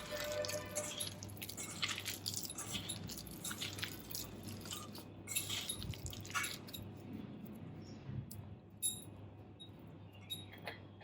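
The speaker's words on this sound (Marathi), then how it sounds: "ह्याच ओलसरपणामध्ये आपण लागेल तेवढं पीठ घालून हे पीठ मळून घ्यायचं आहे" Bottle gourd and rice flour dough is kneaded by hand, giving quiet, close, wet squishing and slapping sounds in an irregular rhythm with occasional soft clicks.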